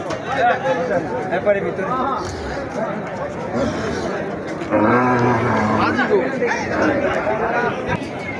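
Cattle low repeatedly amid the busy chatter of a crowded Rahmatganj cattle market, the moos rising over a constant babble of nearby talk and haggling.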